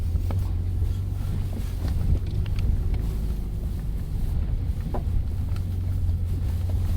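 A Mini Countryman SUV driving off-road, a steady low engine drone mixed with wind buffeting and faint bumps and rattles from rough ground, no talk.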